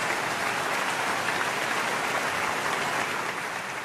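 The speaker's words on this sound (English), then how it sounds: "I think this needs an extra applause." An audience applauds speakers at a tech event on decentralization, with steady, dense clapping sustained loud and even throughout, and no talking over it.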